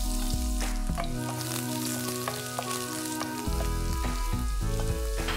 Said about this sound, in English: Once the oil becomes nice and smoking hot, I'm adding in some garlic slices.